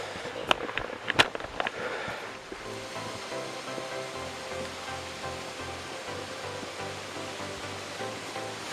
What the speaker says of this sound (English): we've come to one of the best waterfalls so far